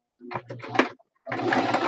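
Sewing machine stitching, with a few short halting bursts followed by a steady close running whir.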